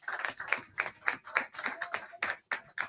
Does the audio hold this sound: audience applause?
yes